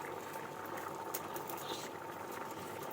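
Chickpea curry simmers in a pot on the stove, giving a steady close bubbling and soft patter that runs without pause through the whole stretch, with no talk over it.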